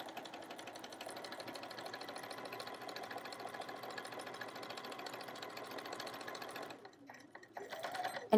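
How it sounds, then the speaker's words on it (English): A sewing machine stitches elastic shirring across fabric in a steady, continuous mechanical whir, close and loud, pausing briefly near the end before starting up again. "Then sew across my fabric."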